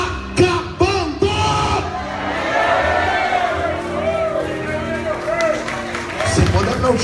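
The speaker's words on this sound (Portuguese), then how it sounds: "você dá um grito de glória a Deus" Church congregation shouting and cheering praise to God, a loud swelling roar of many voices with whoops and some clapping, building and sustained through the moment.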